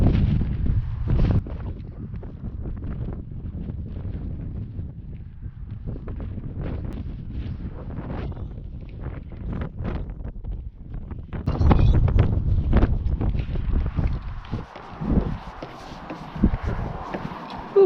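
Strong wind buffeting a microphone outdoors in Iceland, near Grábrók crater, a loud continuous low rumble with gusty bursts and sharp thumps, easing briefly then surging again toward the end.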